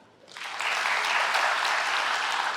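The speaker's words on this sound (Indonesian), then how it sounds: "Tepuk tangan." An indoor audience at a talk on Indonesia's economy and young entrepreneurs breaks into applause, swelling from near silence within half a second into steady, dense clapping that holds loud and even to the end.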